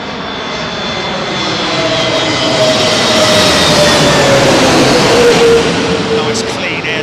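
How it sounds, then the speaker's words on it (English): An Aer Lingus Airbus A321neo jet passes low overhead on arrival into London Heathrow runway 27L, a loud, steady engine roar that swells and holds for several seconds with a slowly shifting tone. "Nice clean Air Lingus A321 Neo there."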